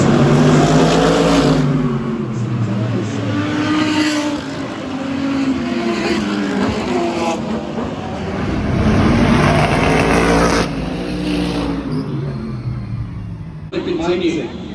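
A Formula 1 race car at the Singapore Grand Prix roars past with a high revving engine note that climbs and drops through the corners, heard under steady commentary.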